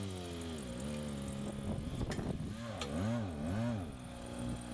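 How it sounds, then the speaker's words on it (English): A Honda CR-V (2007–2011) is driven up onto ramps, its engine close and moderately loud, revving up and down in wavering pitch with a thump midway. "now that the vehicle is pulled up on our ramps"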